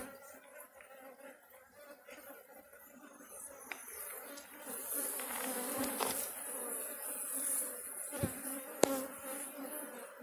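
Honey bees hum steadily around an opened hive during an inspection, a dense, continuous buzz close by that swells at times, with a few brief knocks and soft voices in the background.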